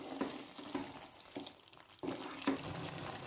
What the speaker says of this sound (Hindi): अब हम फाइनली चिकन में डालेंगे कसूरी मेथी, इसे भी मिक्स कर लेंगे।